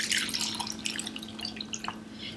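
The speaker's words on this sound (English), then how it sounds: "And I pour it into the bowl." Beef broth pours into a bowl with a bright, splashy trickle of liquid, a short continuous stream with small dripping sounds, close and fairly soft.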